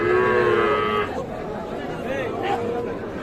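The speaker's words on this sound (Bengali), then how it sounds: "দেখছেন এগুলো সবগুলো কিন্তু ছোট ছোট বাছুর" Small calves at a crowded cattle market, one low drawn-out moo rising near the start, with a bustling crowd and voices talking throughout.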